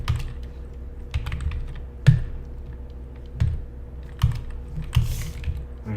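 Close-up typing on a computer keyboard, with a steady stream of soft key taps and a few sharper, louder clicks, with no talking.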